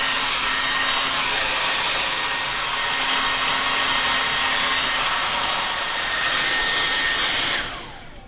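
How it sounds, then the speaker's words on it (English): A hair dryer blows hard and steady on hair during a blowout, loud and close for most of the clip before cutting off and winding down near the end. "I blow dried it for like 4 minutes because it's going to really cut down on the blowout portion."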